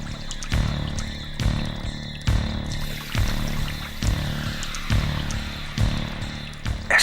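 Water of the Sarayu river splashing and pouring in repeated surges, like an animal drinking, with rhythmic sloshing bursts roughly every second over a steady low background, fairly close and alone.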